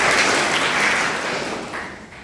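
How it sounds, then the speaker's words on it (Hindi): Clapping from a group at a health awareness and road safety session, a dense even patter of many hands that holds steady for about two seconds and then thins slightly toward the end. "ताली बजा मुझे।"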